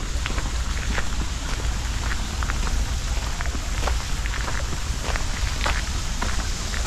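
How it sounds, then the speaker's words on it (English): Water gushes steadily in a small garden creek at a botanical garden in summer, making a loud, continuous hiss and splash with faint crackles throughout and no voices. "Oh, I hear some water. Like some gushing water."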